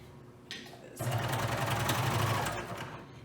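A wide cover stitch sewing machine hemming fabric starts with a brief whir, then runs in a steady, fast mechanical hum for about two seconds before stopping, close and clear.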